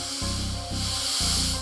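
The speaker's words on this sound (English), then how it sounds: "It is time to get spraying." A spray gun hisses steadily spraying Cerakote ceramic coating, over a low humming drone, the spray pausing briefly twice.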